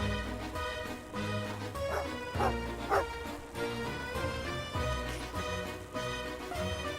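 A dog barking in the Genshin Impact video game, with repeated soft woofs and yips over a continuous musical game soundtrack, fairly faint.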